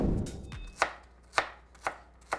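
Food being chopped on a cutting board as part of Sunday home meal prep: four sharp, evenly spaced knife strikes about half a second apart, fairly close and clear, with no talking.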